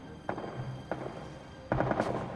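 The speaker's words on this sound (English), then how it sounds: "Whoa, gunshots." Gunfire in the Spider-Man video game, heard as three separate shot bursts, the last a quick rapid volley, loud over a steady in-game background hum.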